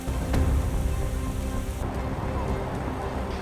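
Heavy rain pours down steadily during Texas flooding, a dense hiss of drops on surfaces with a low rumble of thunder underneath, loud and continuous.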